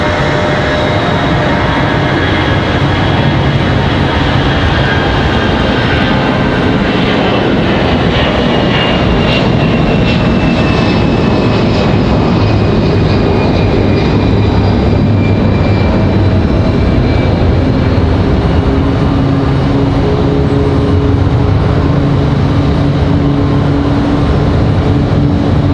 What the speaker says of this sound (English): Good sound and departure here for this A319.